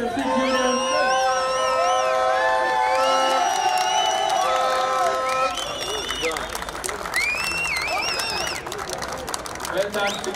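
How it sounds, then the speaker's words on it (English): Crowd cheering and applause for the Sikh Union team at a KHU Masters Series match, loud whoops and shouts over clapping, with a sustained tonal horn or vuvuzela-like drone throughout and an announcer's voice. "Once again, a round of applause to Sikh Union."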